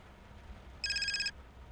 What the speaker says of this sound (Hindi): फोन रिंग हो रहा है